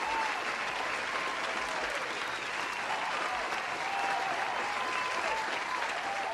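Applause fills the space, a dense, even wash of many hands clapping at a steady level throughout, with no pauses.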